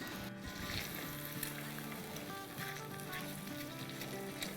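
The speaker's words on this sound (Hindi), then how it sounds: "बस इसे भी हम जब तक ही भूनेंगे जब तक कि तरी ना आ जाए" Spiced masala for a matar paneer curry sizzling and frying in a pan, a steady close crackle with faint clinks of stirring throughout.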